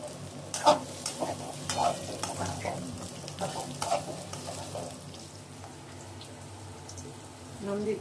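Potatoes, jackfruit seeds and drumsticks fry in a pan for a Bengali no-onion, no-garlic curry, a steady close sizzle broken by repeated scraping stirs, with a light voice in the background.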